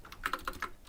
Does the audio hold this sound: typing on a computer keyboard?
yes